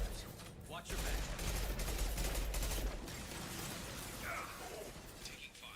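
Gunfire in Mass Effect 2, rapid bursts of shots crackling under a busy battle soundscape with faint voices.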